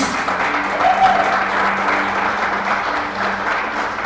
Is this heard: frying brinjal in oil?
no